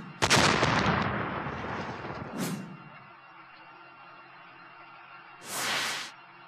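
A gas leak explosion from a natural gas pipeline feeding homes, in news footage: a sudden loud blast with a long rumbling, crackling decay, followed by a second brief burst and a later broad whooshing boom.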